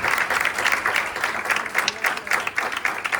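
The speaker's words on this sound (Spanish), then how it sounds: "Un fuerte aplauso para Marcia." A room full of people applauds a speaker introduced at a talk on carbohydrate periodization in elite sport, with brisk, dense clapping sustained at an even level from start to finish and nobody speaking.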